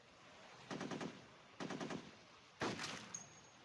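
Three loud bursts of rapid automatic gunfire from the mobile shooter game Modern Sniper, each rattling for about half a second with short pauses between, heard alone with no talk.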